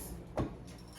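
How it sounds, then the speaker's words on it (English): A door is pulled open indoors, giving a single short thump and rattle at close range in an otherwise quiet room. "let me open this door"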